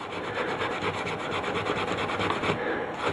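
Steel wool scrubbed steadily across a copper circuit board to strip off toner, a continuous close raspy rubbing with a quick back-and-forth rhythm and no voices.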